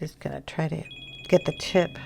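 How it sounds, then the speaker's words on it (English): A telephone rings faintly in the background, a thin repeating electronic trill under a woman's close, steady talk during an adult colouring session. "Sorry about the phone calls."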